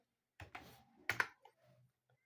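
Computer keys pressed at a desk, a handful of distinct clicks in a quick uneven burst, with a doubled tap in the middle, close and fairly quiet against a silent room.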